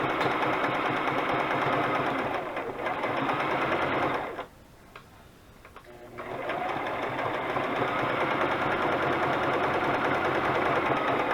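A sewing machine runs a zigzag stitch around a burlap and lace journal cover, a steady close whirring chatter that stops for about two seconds, then resumes at the same even pace.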